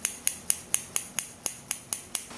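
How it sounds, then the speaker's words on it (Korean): Sharp metallic snips of scissors cutting hair at home, about ten crisp evenly spaced cuts in a quick steady rhythm, close and clear against a quiet background. "그래서 오늘은 가위로만 자르고 있습니다."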